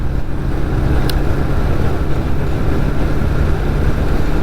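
Steady, loud motorcycle engine drone and wind rush while riding on the road on a long-distance trip, continuous throughout with no talking.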